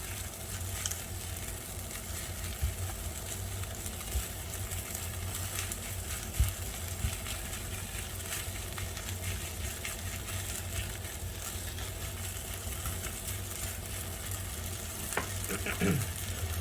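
Sausage fried rice stir-fries in a pan with a steady, dense sizzle and faint scraping of a spatula spreading the rice, continuous and close, with a brief clatter near the end and no voices.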